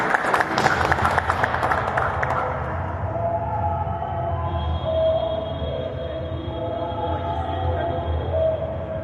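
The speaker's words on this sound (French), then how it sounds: "Sous vos applaudissements, s'il vous plaît." An audience applauds after a speaker is introduced at a French-speaking conference on Christianity and politics. Dense clapping fills the first two seconds, then trails off into a low, steady room hum.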